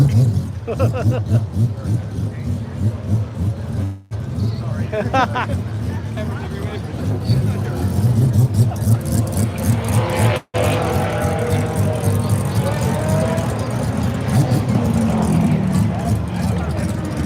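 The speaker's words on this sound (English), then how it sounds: "so that's the Mazda 767B rotary engine there" A Mazda 767B race car with a rotary engine runs at a festival, its buzzing engine note rising and falling under a crowd and steady talking, with two sharp breaks in the sound.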